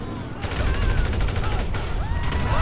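Gunfire rings out in the GTA V video game as a rapid, dense volley of shots. The sound is loud and continuous across the short moment and is heard alone, with no voices.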